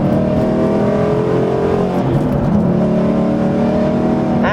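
A Ford Mustang GT's 400-horsepower Coyote V8 pulls hard under steady acceleration, its engine note loud and continuous throughout, rising smoothly with a brief dip partway before climbing again.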